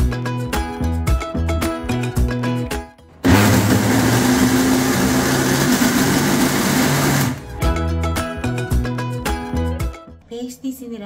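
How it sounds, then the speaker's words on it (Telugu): A mixer grinder blends almonds with milk in a loud, steady whir that runs for about four seconds, with talk before and after it. "ఇప్పుడు దీన్ని మనము మిక్సీ పడదాం."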